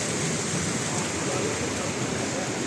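Heavy rain pours at IIT Mandi in Kamand, Himachal Pradesh, with water streaming down a road. A dense, steady rushing hiss fills the clip, close and unbroken.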